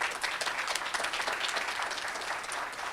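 Applause from an audience at a chamber of commerce event, a soft, dense patter of many hands clapping steadily at a distance for a few seconds.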